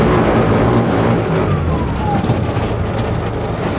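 A VOLS military buggy rolls over a rut crosswise, a loud, close engine and drivetrain rumble with a rising whine and a brief clunk partway through.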